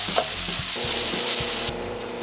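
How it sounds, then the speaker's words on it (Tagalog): Bacon fries and browns in a hot skillet with a loud, dense, continuous sizzle close up, punctuated by regular low knocks of stirring or pan movement. "Ngayong mainit na po itong kawali, ilagay na po natin ng bacon. Pabrownin lang po natin itong bacon."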